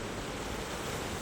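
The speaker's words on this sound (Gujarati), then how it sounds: "અહીંયા મોજા તો જો યાર ખતરનાક આવે મિત્રો યાર." Ocean waves crash on the shore at Dwarka, near the Gomti river, as a brief, loud, steady roar of surf mixed with wind noise, with no voices.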